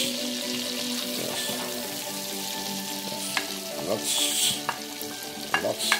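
Garlic stir-fries in a pan for sweet and sour mushroom pork, a close, steady sizzle with intermittent scraping and stirring clatter that grows busier toward the end.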